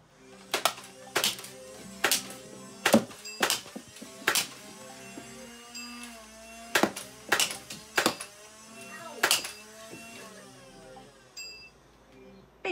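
Nerf darts strike a LEGO dueling tree target, a series of sharp, close plastic clacks arriving singly and in quick clusters, with faint ringing tones between hits.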